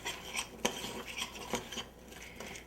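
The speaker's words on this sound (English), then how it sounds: "Mix it around." Cake pieces are folded into buttercream in a bowl, producing a few quiet scraping and clinking strokes of a utensil against the bowl, faint and close with no talking.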